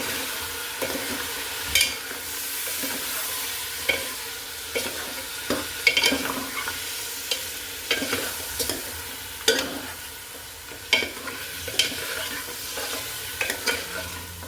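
Chicken is mixed with spices in a pan over low heat for a hotel-style chicken soup, with repeated scraping stir strokes over a gentle, steady sizzle and no voices.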